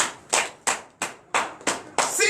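A church congregation claps in unison, six sharp, evenly spaced claps forming a steady beat, loud and close in a reverberant room.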